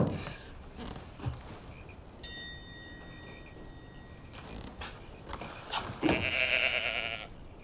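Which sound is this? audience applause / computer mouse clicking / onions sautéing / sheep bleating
sheep bleating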